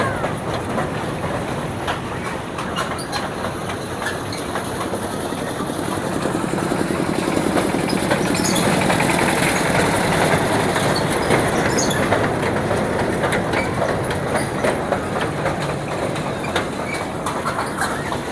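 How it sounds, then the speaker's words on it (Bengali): A children's fairground train ride at a village fair, driven by a shallow pump engine, gives a steady loud mechanical rumble and clatter with rattling wheels running throughout, close by, with fair crowd noise around it. "সেলো মেশিন দিয়ে ট্রেন বানাইছে"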